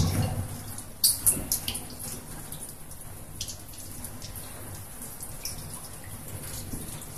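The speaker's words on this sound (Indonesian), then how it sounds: "di bawah air mengalir." Tap water runs steadily while hands are scrubbed and nails cleaned during surgical hand washing, a soft continuous hiss with a few brief splashes and knocks near the start.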